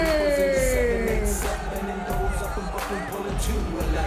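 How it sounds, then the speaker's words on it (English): A wrestling arena crowd roars and jeers loudly during an LAX versus Team AJ match, a broad, sustained cheer with an announcer talking over it. "You can hear the crowd"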